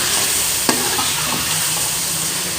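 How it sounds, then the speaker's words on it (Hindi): Chicken with dry coriander stir-fries in a pan, a continuous close sizzle with a sharp scrape of a spatula and a few lighter stirring knocks. "इनको अब हम अच्छे तरीके से भून लेंगे"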